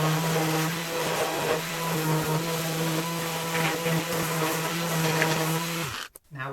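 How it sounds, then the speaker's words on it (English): A Makita quarter sheet sander running steadily on interior skirting board trim, a loud continuous motor hum with buzzing vibration that cuts off abruptly near the end. "This is a quarter sheet sander, Makita."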